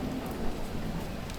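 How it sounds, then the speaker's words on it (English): Steady rain falling in the Creo God Simulator video game, a dense, even patter of drops throughout with no break. "Oh, it's raining on us."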